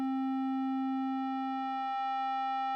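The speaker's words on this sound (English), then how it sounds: "okay, here I am in sine wave" Clean, steady sine tone from a Eurorack West Coast style wavefolder module, one unbroken pitch held alone at moderate level without talk.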